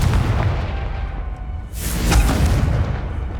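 A Confringo blasting spell explodes in the video game Hogwarts Legacy, giving a loud, close, deep rumbling blast that swells midway and then rolls on.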